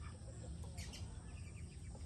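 Chickens cluck faintly near a coop on an island farm, soft and distant under a steady background hiss with no talking.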